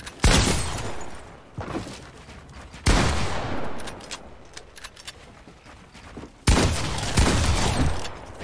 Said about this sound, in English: Dude, your pump shot is so insane.